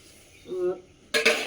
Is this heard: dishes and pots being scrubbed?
yes